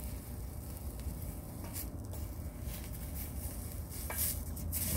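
Food sizzles over hot coals outdoors as a steady, dense crackle, close and continuous, with a few faint clinks and pops, and no talk.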